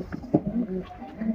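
Pigeons of a Golala breed giving soft, low cooing calls close by, a few short throaty coos with light rustling.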